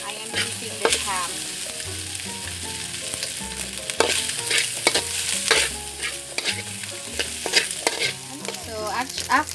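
Diced ham fries in a pan for carbonara, giving a continuous close sizzle with scraping stirs and bright crackles throughout; no voices over it.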